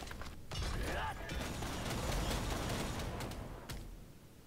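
A multiple rocket launcher in Lost Ark unleashes a shotgun-like spread of rockets, making a dense sustained roar of overlapping blasts for several seconds at close range.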